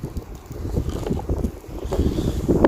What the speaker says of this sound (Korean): 근데 바람 너무 많이 분다, 맞지?